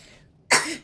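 A child sneezes once, close by: a short, sharp, breathy burst after a moment of near quiet, loud and sudden, then fading quickly.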